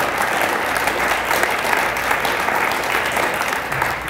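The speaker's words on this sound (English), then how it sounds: "So I'm going to give them a round of applause." A room of guests at a veterans parade dignitary breakfast claps in a sustained round of applause, close and uniformly loud throughout with a faint murmur beneath.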